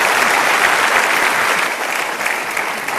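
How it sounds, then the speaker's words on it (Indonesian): Steady, dense audience applause fills a large hall at a televised Indonesian celebration event, holding at a loud, even level throughout with no pauses and no speech over it. "Sekali lagi tepuk tangan Pak Yusuf Kalla dan Pak JK."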